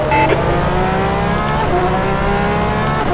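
Porsche 911 RSR GTE race car engine in rFactor 2 at Portimao, revving loud and steady with a dense, layered harmonic drone that holds high throughout, up close with no talk.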